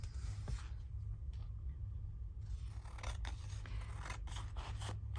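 Scissors snipping paper tabs for an illuminated medieval botanical craft project, a few quiet, close scraping cuts spaced over a few seconds, faint against a low background rumble, with no talk.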